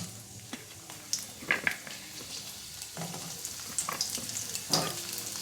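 Long strips of a medium potato fry in oil tempered with whole spices for neem jhol, hissing and sizzling steadily while a utensil stirs them with intermittent scrapes and taps; no one speaks.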